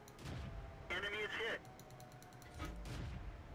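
A tank gun fires in the World of Tanks video game, a single booming report followed by mechanical reload clatter, with a player's voice talking quietly underneath the game sounds.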